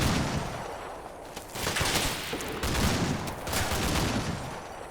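Suppressive gunfire in the war game Combat Mission: Black Sea, Ukrainian army firing: dense overlapping bursts of rifle and machine-gun shots crackle in uneven volleys, moderately loud with no voices.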